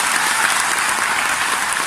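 An audience at an achievers' celebration breaks into loud, dense applause, steady hand-clapping from a large crowd filling the hall throughout.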